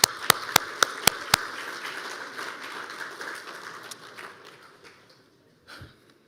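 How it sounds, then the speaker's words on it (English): Audience applause at an alumni excellence awards ceremony, opening with a few sharp, loud claps before settling into a dense patter of clapping that gradually thins and fades to near quiet, with one last thump near the end. "Can we please give them another round of applause?"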